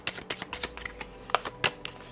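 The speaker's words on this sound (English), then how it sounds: "Shuffle again." Tarot cards are shuffled close by, making a run of quick, crisp riffling snaps and taps in an uneven rhythm, with no one speaking.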